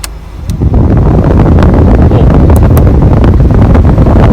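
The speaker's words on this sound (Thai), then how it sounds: "ผมเปิดสวิตช์แอร์" The air-conditioner blower fan in a 2003 Honda City, fitted with a replacement fan motor, kicks on and settles into a loud, steady rushing roar that fills the cabin.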